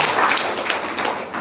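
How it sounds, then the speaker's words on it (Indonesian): Scattered audience clapping at an Indonesian religious talk, a brief burst of hand claps spread across the moment, moderately loud, with no speech over it. "Oh iya, tepuk tangan dong."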